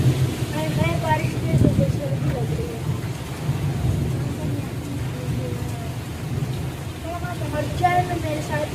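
Steady rain falls with a rumble of thunder, under a voice talking intermittently nearby.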